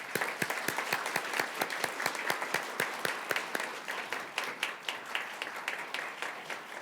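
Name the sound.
audience applause at award ceremony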